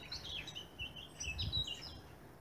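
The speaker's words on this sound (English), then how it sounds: "Beautiful songbird." Songbirds sing in oak woodland in a Plymouth city park in spring, with several overlapping bright chirping phrases and trills at moderate distance over low rumbling background noise, no talk.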